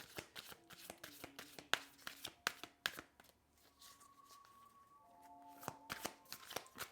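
Tarot cards are shuffled in a series of quick, close, crisp riffling bursts. The shuffling pauses midway while a faint steady tone hangs in the background, then the riffling resumes.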